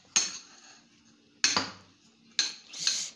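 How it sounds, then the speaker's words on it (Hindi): A spoon clatters against a dish while mixing chana fruit chaat, three sharp clinking strokes with a scraping tail, close and fairly loud with no talking. "तो अभी हम इसको मिक्स करते हैं अच्छे से।"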